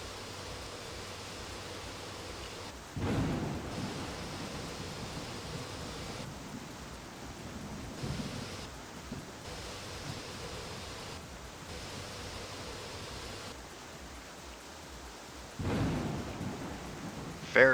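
Steady rain falls through a thunderstorm, with several deep rolls of thunder booming at intervals over the constant hiss, all fairly quiet and without voices.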